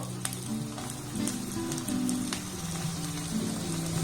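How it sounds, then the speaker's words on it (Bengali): Thin portions of egg and red lentil batter go into hot oil in a kadai over a low gas flame, giving a continuous close hissing sizzle that swells slightly as each portion drops in, heard alone without voices. "এবার যে মিশ্রণটাকে বানিয়েছিলাম সেটা নিয়ে নিয়েছি তেলের মধ্যে দিয়ে দেবো এইভাবে একটু পাতলা পাতলা করেই দিয়ে দেব"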